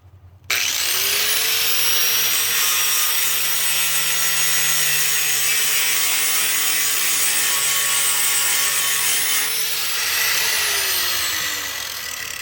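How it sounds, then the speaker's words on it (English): A power tool, likely an angle grinder, cleaning a bare spot on steel plate for a welder's ground clamp: a steady, loud, high whine held for about ten seconds before winding down, close and alone. "I'm going to clean off a spot to hook my ground for the welder."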